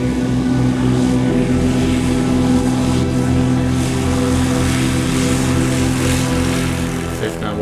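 Cessna 170 light aircraft taking off, its propeller engine a loud, steady droning roar held at full power throughout, close and without pause.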